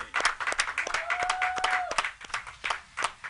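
An audience applauds a cricketer, Asif Ali, on a Karachi sports show, giving scattered, uneven claps in loose bursts rather than a dense roar, with a sustained tone running briefly through the middle.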